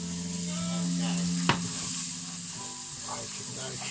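Onions tipped into hot, lightly browning garlic butter in a pan, giving a steady close sizzle and hiss with a brief sharp clatter as they go in, continuing without talk.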